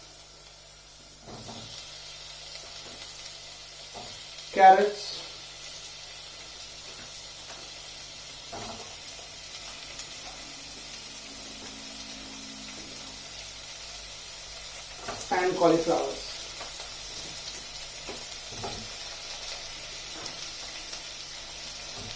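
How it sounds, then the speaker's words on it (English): Mixed vegetables including bell peppers, carrots and cauliflower with potatoes, onions and whole spices sizzling in hot oil for pulao, a soft steady fry punctuated by two louder bursts of stirring, with a voice talking quietly over it. "stir frying all these vegetables now in the oil requires that I stand next to it and keep on stirring them"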